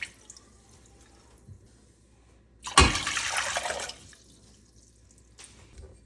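Four cups of water gush into a pot on the stove for turkey brine, a loud burst of pouring for about a second amid quiet kitchen background.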